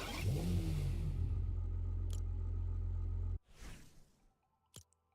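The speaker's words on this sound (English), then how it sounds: "look at the car I just got from playing Rocket League" A car in the video game Rocket League revs loudly and steadily, then cuts off abruptly. A couple of whooshes and a short tail of quieter effects follow, with no talk.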